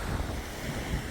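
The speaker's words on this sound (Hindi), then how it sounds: "ओशन है ना बहुत ही तेज हवा चल रही है" Strong wind roars across the microphone over the constant wash of ocean waves on Margate's town beach in the UK, a loud, unbroken rumble with no voices.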